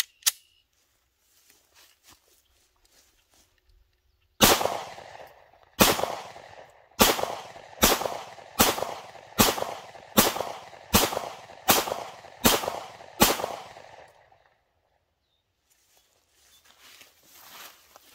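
A Ruger Max-9 Pro pistol fires its first magazine: about ten loud, sharp shots spaced roughly a second apart after quiet handling noises, then silence and faint rustling.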